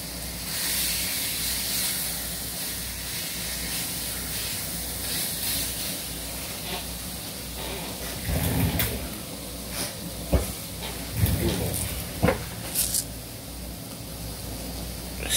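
Steak sizzles on a discada over an outdoor cooking setup, a steady broadband hiss running throughout with a few louder spits and pops near the end, heard alone without talk.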